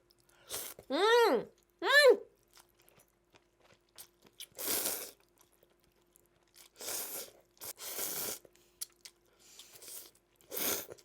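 Spicy bibim naengmyeon cold noodles with sesame oil being eaten close up: quick slurps followed by scattered chewing bites and crunches in short separate bursts against quiet.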